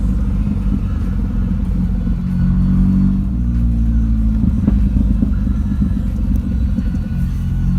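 A 1989 Nissan 240SX drift car idles and blips through a new exhaust, a loud, close, steady low rumble with a rough crackling burble and a brief rev swell midway, no talking.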